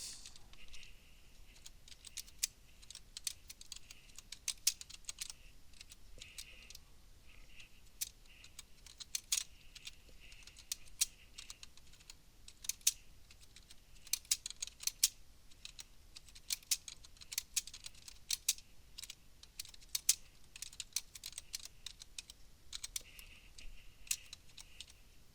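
Steady typing on a computer keyboard, a quick, uneven stream of close, crisp key clicks with brief pauses, heard alone without any speech.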